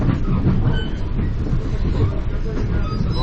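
A NYC Metro-North train rolling on rails between Marble Hill in the Bronx and Philipse Manor, a loud steady rumble with rhythmic wheel clatter heard from inside a busy car.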